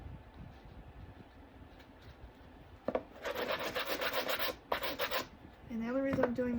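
A sanding block is rubbed over a painted wreath form in short, close passes, each a bright scratchy burst of a second or two with brief pauses between them, and a faint tonal sound creeps in near the end.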